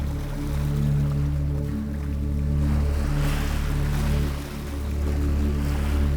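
Waves wash in and recede in slow swells over a steady low drone, with a continuous rushing hiss and no voices.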